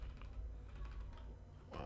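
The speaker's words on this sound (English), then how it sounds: "So I'm gonna press B on the keyboard." Keys on a computer keyboard are tapped during photo retouching work, a run of soft quick clicks at a quiet level, ending in a slightly louder rustle.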